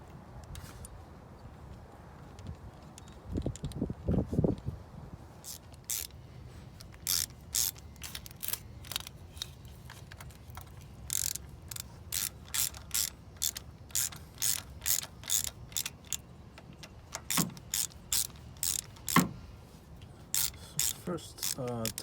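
A hand ratchet tightens the VTEC solenoid bolts on a 2011-2017 Honda Odyssey engine, making crisp, close clicking bursts in rapid repeated strokes. A few duller metallic knocks come early on, with quiet pauses between runs of clicks.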